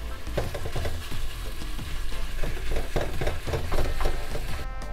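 Meat for carimañolas dropped into hot oil, crackling and sizzling loudly with bursts of popping and stirring clatter, close up with no talk.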